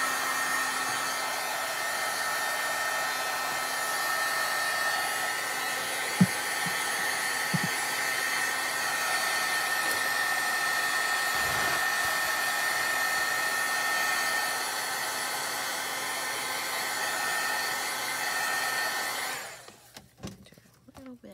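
Hair dryer blowing steadily on a handmade craft piece: a loud, continuous whirring hiss held close for about nineteen seconds, then switched off, with a few light knocks and handling sounds underneath.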